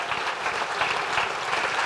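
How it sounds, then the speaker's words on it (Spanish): A church congregation applauds steadily and loudly, a dense wash of many hands clapping together without pause. "Denle un aplauso al Señor"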